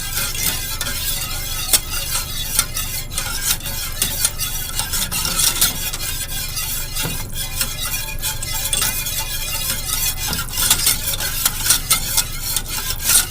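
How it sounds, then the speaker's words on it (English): Brown sugar liquid for a butterscotch filling heating toward a boil in a pot, giving a steady close bubbling hiss with frequent small clicks and ticks throughout, no talking. "I'm watching my liquid come to a boil"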